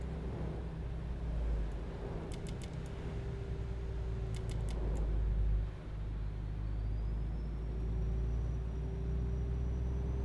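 The engine of a 2020 MAN TGX truck in Euro Truck Simulator 2 rumbles in a low, steady drone, with a faint whine and a few light clicks above it and no one talking.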